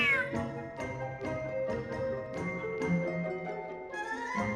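Cat meowing in the video game Genshin Impact, several drawn-out pitched meows in a row over soft melodic game music, close and clear.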